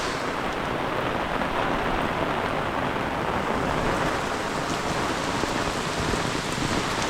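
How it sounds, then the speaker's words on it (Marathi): Torrential monsoon rain pours down in a Konkan village near Khed, Ratnagiri, as a constant, dense hiss of heavy drops on surfaces, loud and unbroken throughout with no speech. "एकदम जोरात पाऊस चालला आहे."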